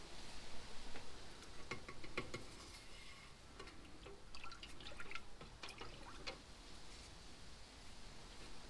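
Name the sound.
waterproofing paste being mixed in a jug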